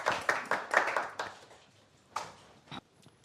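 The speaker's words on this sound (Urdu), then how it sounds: "بھرپور تالیاں سعید راجہ صاحب کے لیے" Scattered audience applause at a mushaira poetry gathering: an opening run of hand claps that thins out into a few isolated, fading claps, fairly close and not very loud.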